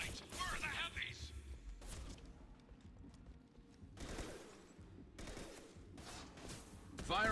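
High impact shot in the video game Mass Effect, with sharp bursts of gunfire and heavy impacts cracking amid chaotic combat noise and scattered voices.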